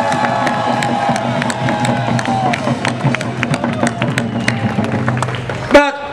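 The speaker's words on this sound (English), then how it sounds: "Let's give ourselves a thunderous round of applause." A large crowd claps and cheers, a dense wash of applause and voices that carries on steadily before cutting off abruptly.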